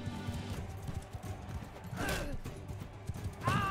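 Hooves clip-clop in a quick galloping rhythm from a horse in the medieval combat game Mount & Blade II: Bannerlord, with whinnies and battle clatter mixed in at moderate volume.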